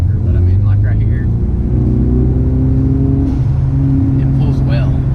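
A tuned 2018 Ford Mustang EcoBoost with a 10-speed automatic pulls hard under acceleration, its steady engine drone rising across gears over road noise, with voices talking over the cabin hum.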